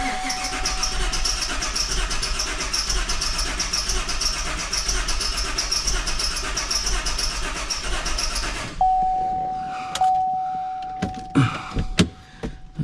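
A 2016 Chevy Suburban with a cylinder 4 failure runs roughly and steadily for several seconds, then shuts off, leaving a lingering electronic tone and scattered clicks and knocks.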